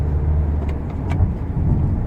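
An MG Hector Plus diesel car accelerates on the road with a steady, low engine drone. The sound is heard from inside the cabin at an even loudness, and nobody talks.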